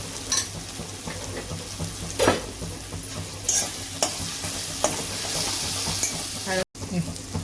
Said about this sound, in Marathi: आता आपण तेलामध्ये हे मिरची वाटलेलं वाटण टाकूया हळद टाकूया